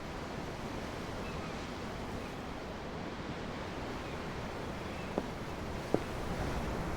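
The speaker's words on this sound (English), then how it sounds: "I'm looking at the ocean. The ocean? Yeah. The waves." Ocean waves wash continuously beneath a ship in the game Tales of Arise, a soft, broad rush mixed with wind and broken by a couple of faint clicks, heard alone with no voices.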